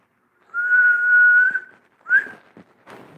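A single person whistles a long sustained note, then a shorter rising one, followed by a few soft breathy noises; close and fairly loud, no talking.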